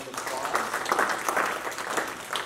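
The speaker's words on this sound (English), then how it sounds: "let's give a round of applause." Audience applause after a talk on feline immunodeficiency virus, a short, fairly loud burst of many hands clapping that holds steady for a couple of seconds.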